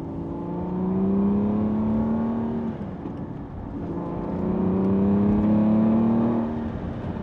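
An Aston Martin V8 Vantage AMR idles and creeps along at low speed, its engine giving a low, smooth hum that swells gently twice, moderately close and without any voices.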